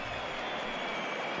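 A big ballpark crowd of over 39,000 roars and applauds in MLB The Show 20 as a steady, dense wash of cheering that fills the whole moment without a break.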